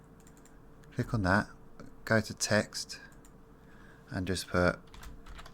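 Computer keyboard typing during an Arma 3 mission-editor session: a few quick bursts of clicky keystrokes in short clusters, fairly close and quiet, with a person talking over them.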